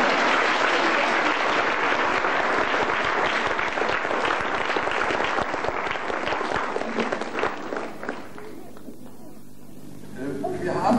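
Audience applause during a 1989 tea time show: a dense, steady wash of many hands clapping, loud and sustained, then thinning and fading out toward the end.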